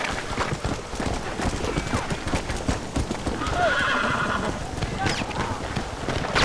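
Hooves clop rapidly over a noisy, gritty background while a horse whinnies briefly partway through, in the video game Red Dead Redemption.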